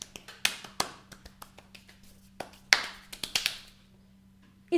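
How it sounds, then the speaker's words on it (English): Single pair of hands clapping in an uneven, scattered pattern with no steady beat, sharp close claps spread across a quiet room with a low steady hum underneath. "So if I just clap like this"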